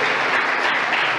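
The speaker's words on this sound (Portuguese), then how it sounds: "Manda um aplauso ao Senhor Jesus aí, irmão" A Brazilian Pentecostal church congregation applauds, producing dense, loud, continuous clapping that fills the whole short moment with no speech over it.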